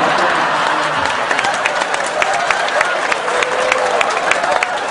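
Applause from a large crowd at a Mocopat Syafaat religious gathering, a continuous loud wash of clapping with scattered sharper claps and some crowd voices mixed in.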